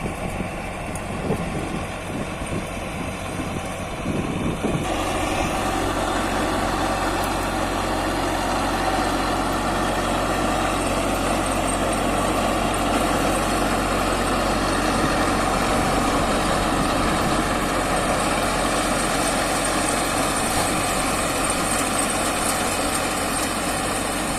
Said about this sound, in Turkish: Şurada traktör başladı şimdi.